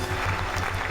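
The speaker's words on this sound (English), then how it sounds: "Yeah, the applause. I love it." Studio applause plays as a short burst of dense, even clapping from a crowd, steady and moderately loud for about a second at the opening of a movie talk show.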